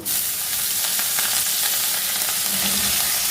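Leafy greens with whole garlic cloves sizzle in a little oil, a loud continuous frying hiss that holds steady throughout, with faint stirring.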